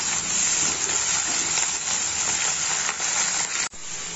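Chopped onion stalks fry in hot oil with whole cumin seeds, a loud, dense, continuous sizzling hiss close up, broken only by a brief dip near the end.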